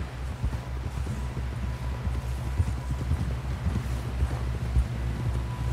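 Horse hooves clip-clop steadily on the ground in the Red Dead Redemption 2 video game, a continuous trotting rhythm under a low wind-like rumble with no talking.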